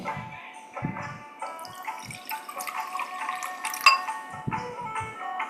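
Water is poured into a glass bowl, with light trickling and dripping, soft clinks and a few low knocks, close and fairly quiet.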